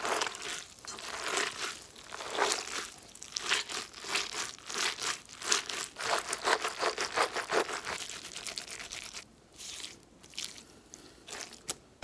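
Leftover feta cheese crumbled by hand gives a close, steady run of soft crinkly crunching and squishing, dense and continuous with a brief lull near the end, and no voices.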